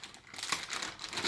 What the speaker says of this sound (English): Let's open it up. It's an ESD sealed bag also.